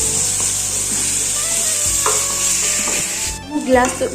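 Ginger garlic paste fries in a pan on a low flame while being stirred, giving a steady close sizzle broken by scraping spoon strokes, with no talking.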